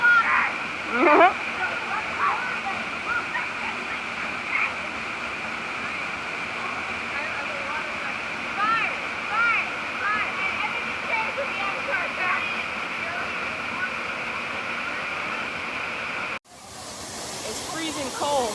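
A hidden waterfall in Jamaica roars as a steady broadband rush of falling water, close and continuous, with people talking over it throughout and a brief drop near the end.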